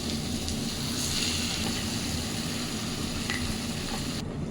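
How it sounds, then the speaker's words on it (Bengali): Ground spice paste and spinach added to a hot pan for palak paneer, giving a steady, close, even sizzle throughout with a few faint scrapes and no voices. "এরপরে আমাদের বেটে রাখা মশলাটা, পালং শাকটা দিয়ে দিচ্ছি।"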